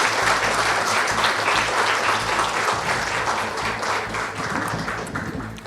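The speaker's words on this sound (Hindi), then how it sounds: "ताली बजाइए," An audience claps to welcome a guest at a public gathering, dense, loud, sustained applause from a large crowd that fades slightly toward the end.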